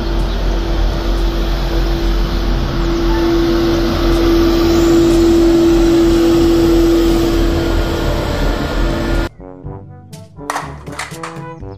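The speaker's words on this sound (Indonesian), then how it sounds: "Mobil pembersih jalan," A road sweeper vehicle runs with a loud, steady whirring drone and a constant tonal hum for about nine seconds, then cuts off abruptly into music.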